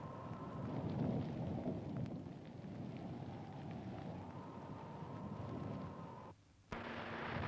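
Thunder rumbles low and long beneath a steady wash of heavy rain at Birdsville, Australia, briefly cutting out before the downpour resumes.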